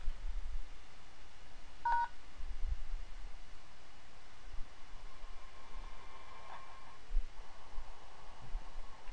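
Telephone keypad tones on a Cisco CUCM office phone: a short DTMF beep or two, then a longer tone later, over a quiet hiss with faint handling rustle and no talk.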